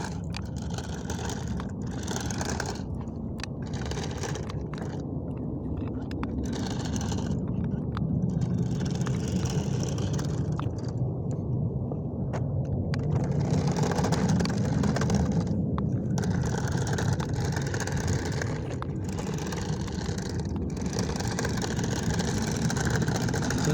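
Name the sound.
Batmobile remote control car driving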